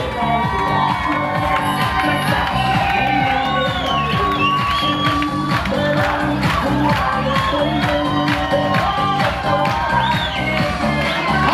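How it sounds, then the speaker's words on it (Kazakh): A wedding crowd at a Kazakh celebration cheers and whoops loudly over pounding live music, with shouts and bursts of clapping running throughout. "Қол шапалақтар Оралбай!"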